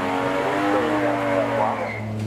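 An Aston Martin V12 supercar engine of 820 horsepower revving loudly and steadily at a hillclimb event, with a rising and falling tone that stays up close throughout.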